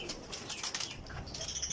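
A desi pipla pigeon, a flying breed, beats its wings in a quick rustling flurry close by. The flapping comes in repeated soft bursts with no voices.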